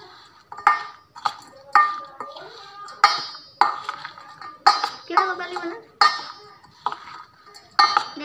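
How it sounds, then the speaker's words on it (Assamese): A spoon clinks and scrapes rhythmically against a jar or bowl while ground dried spices are mixed into green chilli pickle, roughly a dozen distinct close taps in an even pattern. "চামুচ এখন লৈ মিক্স কৰি দিম।"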